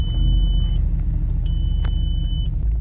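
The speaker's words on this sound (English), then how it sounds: "So let's start the engine." An Audi RS4 engine with low compression runs with a loud, deep, steady rumble close by, while a high electronic chime beeps on and off over it.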